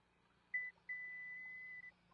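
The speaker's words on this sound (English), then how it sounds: "hold both of these buttons until you hear a loud beep" A short electronic beep from a Subaru Forester Wilderness liftgate, then after a brief pause a long, steady beep lasting about a second as the memory setting is saved, clear against a quiet background.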